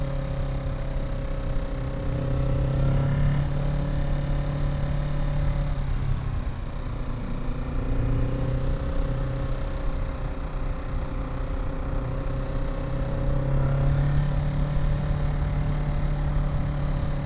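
A Kawasaki Z650 motorcycle engine drones steadily at mid pitch while being ridden on a mountain road to Genting, with the note rising and falling slightly as the throttle eases back, continuous and close over wind rush.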